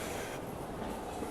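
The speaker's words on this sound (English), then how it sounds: "I am actually going to get on this train." Train at a Japanese railway station, a steady broadband rumble of rolling stock filling the whole short stretch, close and continuous with no talking.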